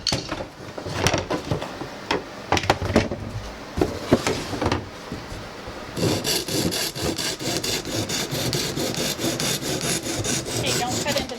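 A handsaw cuts through scrap wood at an angle, first in uneven, hesitant strokes and then in fast, steady back-and-forth rasps, loud and close with no talking.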